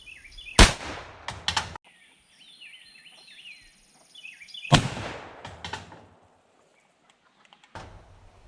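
A black-powder load fires from an 1894 Winchester 38-55 rifle outdoors, giving two loud sharp shots several seconds apart, each with a short echoing tail, while birds chirp faintly in the background.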